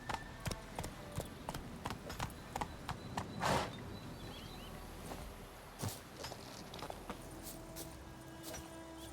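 Roach, a horse in The Witcher 3, walks with steady, fairly close clip-clopping hooves that fall in an even rhythm, along with some faint background game ambience and a louder scuffing burst partway through.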